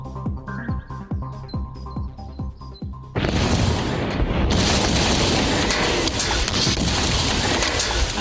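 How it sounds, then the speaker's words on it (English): Cesium dropped into water bursts into a sudden loud explosion after a few seconds of quieter clinking and bubbling, followed by a sustained roaring, crackling wash of noise that continues to the end. "the rapid generation of hydrogen gas should produce quite an explosion"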